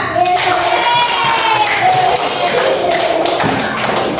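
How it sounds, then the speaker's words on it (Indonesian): A primary school class claps hands together during an Islamic religion lesson, a dense, steady burst of close applause with children's voices mixed in. "Tepuk tangan."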